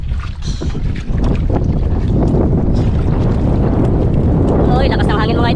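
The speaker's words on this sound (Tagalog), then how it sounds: "lakas ng hangin mga idol" Strong wind at sea buffets a small fishing boat while people fish for a giant sea eel, a loud, constant roaring rush that fills the whole stretch, with water sounds and voices partly buried in it.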